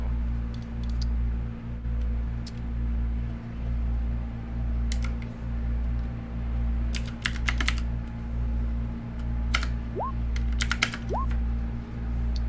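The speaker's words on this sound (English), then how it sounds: "I hear a lot of dice rolling." Dice rattle and click on a table during a Dungeons & Dragons game, sounding as scattered sharp taps over a steady low hum, with a few quick clusters toward the end.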